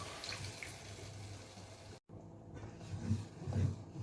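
Fresh milk is tipped gently into a cauliflower cheese bake, a soft, close, trickling pour that is briefly cut off and then resumes with a few louder gurgles.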